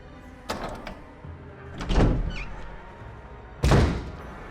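A door opening in Resident Evil 1 Remake: three heavy thuds and creaking swings spaced a second or two apart, loud and close over a low ambient hum, with no talk.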